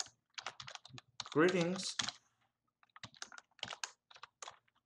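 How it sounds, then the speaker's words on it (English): Computer keyboard typing during Excel VBA work comes in quick irregular bursts of key clicks, close and fairly quiet, with someone speaking over part of it. "I can type in here like sheets"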